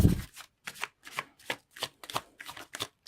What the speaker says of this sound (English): So let's pull for a few clarifiers.